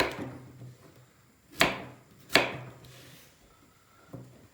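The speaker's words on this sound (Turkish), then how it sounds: "Hemen patlıcanlarımızı doğrayacağız." A few sharp knife chops through eggplant strike a cutting board up close, spaced unevenly with quiet gaps between each cut.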